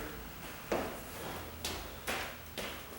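A wooden door being flipped over by hand while being painted: four separate knocks and bumps, spaced unevenly, moderately close and fairly soft, set against a steady room hiss.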